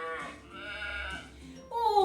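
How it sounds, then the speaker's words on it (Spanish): A sheep bleats in a short wavering cry, played as a farm-animal sound example, with a louder bleat rising at the end. "¡Un borrego!"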